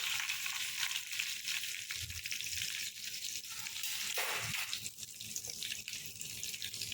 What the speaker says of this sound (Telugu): పోపు దినుసులు వేసి ఎండుమిర్చి,